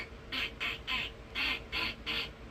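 A person imitates duck quacks with the mouth, producing two calls at once from either side, as six evenly spaced nasal squawks in a steady rhythm over a low background hum.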